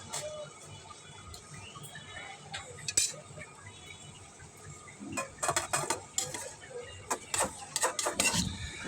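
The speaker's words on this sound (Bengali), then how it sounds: "এখন আমি একটু নেড়ে চেড়ে দেবো, ভালো করে নেড়ে চেড়ে দিতে হবে।" Stem greens and potato stirred in a pan, a spoon scraping and clinking against the metal in irregular bursts that grow busier toward the end, over a faint background hiss.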